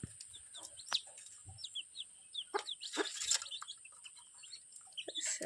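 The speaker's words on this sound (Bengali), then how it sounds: "মুরগি মুরগি বাচ্চা বাবা" A hen with her chicks, clucking and high peeping chirps repeating in short bursts close by, with scattered soft knocks and rustles around them.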